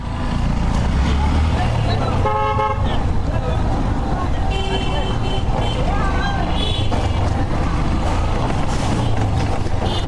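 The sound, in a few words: new aftermarket horn on a motorbike honking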